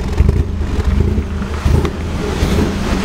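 A Nissan S14 car engine runs on its own, a steady low idle rumble close by, with some wind buffeting the microphone.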